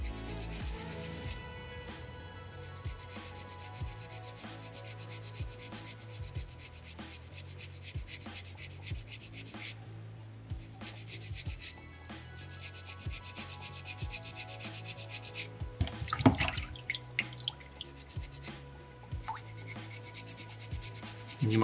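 Sandpaper rubbing over a small soapstone beaver carving, a steady close scratchy rasp of repeated back-and-forth strokes with brief pauses, alone without talk.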